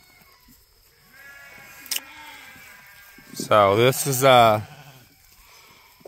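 Near the end a sheep lets out two loud, wavering bleats close by in a wooded pasture where sheep and goats graze, after a quieter stretch with faint background noise and a spoken word.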